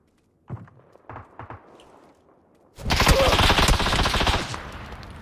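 Gunfire in a video game shooting a molotov out of the air: a few scattered dull thumps and footsteps, then a sudden loud burst of rapid automatic fire lasting a couple of seconds.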